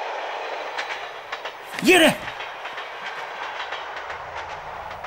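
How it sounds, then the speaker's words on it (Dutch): Train passing at a steady, moderate distance, its rhythmic rumble and clicks running throughout, with a short shouted voice breaking in near the middle. "Een trein."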